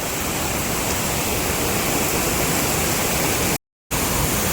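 Steady, loud rushing water fills the clip with a broad roar from Mala Falls in Karkala taluk, Udupi, cutting out briefly near the end before resuming.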